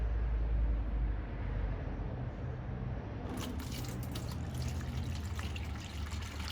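Hot used motor oil drains from a truck engine after an Amsoil engine flush, a steady low liquid pour and trickle with soft splattering, continuous and fairly close.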